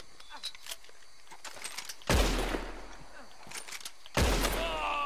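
Two loud gunshots from Red Dead Redemption 2 online play ring out about two seconds apart, each a sharp blast with a lingering rumble, over quieter background game sounds.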